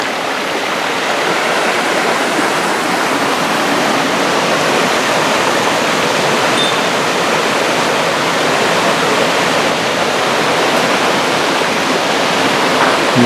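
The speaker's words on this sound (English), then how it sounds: "this takes us right back to the river here" North Fork river water rushing steadily beside a trail, a loud, continuous broadband roar with no pauses or voices.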